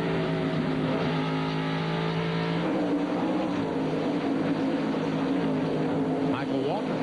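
NASCAR Busch Series race cars run side by side at Bristol in 1998, their engines a loud, continuous droning roar with shifting pitch as cars pass, while a commentator talks over them.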